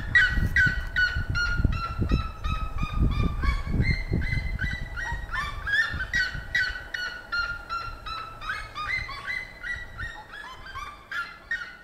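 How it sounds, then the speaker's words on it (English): A red-legged seriema in Brazil's Pantanal gives a long, rhythmic series of loud, yelping honk-like calls that repeat steadily and then slowly taper off, with no talk. "this is a red-legged seriema"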